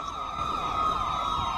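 Police siren in the video game Dept. of Justice Cops wailing steadily with a sweeping electronic tone, loud and continuous throughout with no speech over it.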